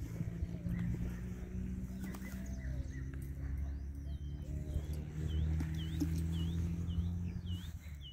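A tame horse walking along, hooves clip-clopping in an irregular rhythm at a moderate distance, with birds chirping and a low rumbling background.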